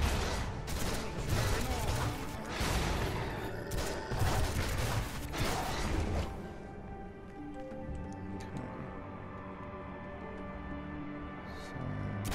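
Rapid machine-gun fire from the Munitions power in DC Universe Online rattles in dense, loud bursts for about six seconds, then cuts off, leaving quieter ticking and mechanical game sounds.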